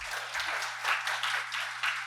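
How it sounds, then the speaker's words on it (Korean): An audience at a gender-equality policy forum claps, a steady, moderately loud patter of many hands, with a low electrical hum from the hall underneath. "박수 부탁드립니다"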